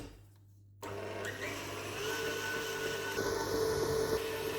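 An electric mixer starts up after a brief quiet and runs steadily, beating langue de chat biscuit batter in a bowl with a constant whirring drone and slight changes in pitch.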